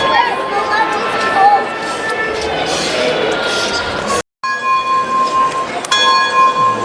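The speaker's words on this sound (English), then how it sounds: "Cool bell sounds." A bell rings inside the crowded Henry Ford Museum, sustained ringing tones sitting over steady crowd chatter, with a brief dropout partway through before the ringing carries on.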